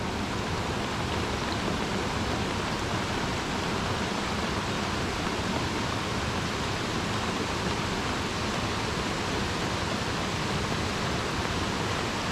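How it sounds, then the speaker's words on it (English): Heavy rain pours down in the jungle at a solo camp, a dense, even hiss of hard rainfall that stays loud and unbroken for the whole stretch with no voices. "the rain is even falling that hard"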